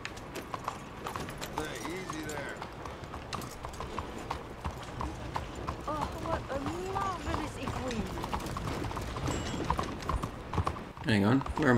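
Horse hooves clip-clopping in Red Dead Redemption 2, a rhythmic trot running steadily under frequent speech and other game sounds, with a snort or whinny near the end.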